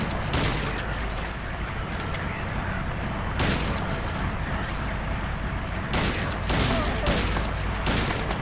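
Handgun shots in the video game Silent Hill 2, several sharp loud cracks spaced a few seconds apart over a dense, rumbling game background.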